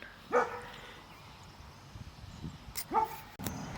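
Dogs bark outdoors, two separate sharp barks a few seconds apart at moderate distance over a low background hiss, with a short clatter near the end.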